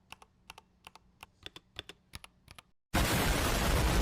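A white, hot-swappable Royal Kludge RK84 keyboard with red switches being typed on: about a dozen crisp, close keystrokes in an uneven rhythm, then an abrupt loud burst of noise.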